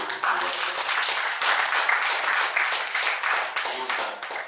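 An audience at a Kargil war veteran's talk on independence claps steadily and loudly, dense applause filling the whole few seconds without letting up.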